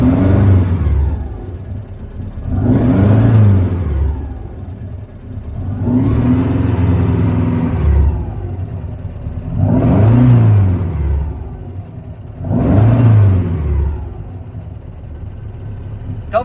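A car engine in a Fusca with a shift light being fitted revs up and falls back five times, with a short pause between each rise to about 2000 RPM. The revving is loud and close, with no talk over it.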